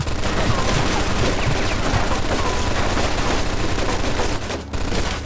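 A machine gun nest blazes away in the Mafia 2 video game, a dense, continuous roar of rapid gunfire that stays loud and close almost throughout, dipping briefly near the end.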